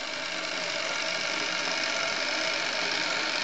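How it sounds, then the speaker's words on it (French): A Meccano model steam traction engine's motor runs inside its tank, a dense, steady whirring hum that holds unchanged for a few seconds, close and fairly loud with no voices. "je pousse la commande de vapeur qui vient actionner le moteur situé dans la cuve"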